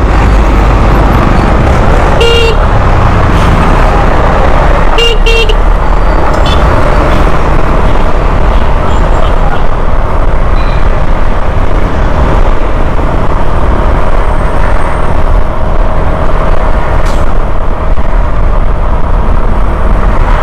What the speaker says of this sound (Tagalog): So, sobrang traffic kasi guys.